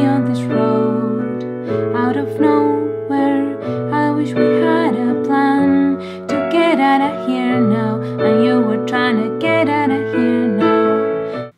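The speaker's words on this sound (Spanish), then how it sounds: "La canción a piano, como llegaría el artista al estudio del productor, suena así." Pop song played on solo piano, a steady bass line under chords and a sung-like melody line in the upper register, close and clear with no talking.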